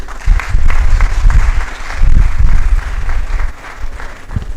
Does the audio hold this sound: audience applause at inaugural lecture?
yes